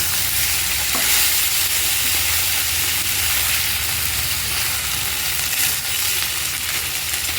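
Fish frying hard in hot oil, a dense, loud, continuous sizzle and hiss close by, with faint stirring movement underneath and nobody speaking.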